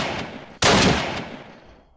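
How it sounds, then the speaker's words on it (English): A single sharp, loud gunshot cracks in the Apocalypse Rising video game, followed by a long decaying echo with faint background fire before it. "I'm getting shot at."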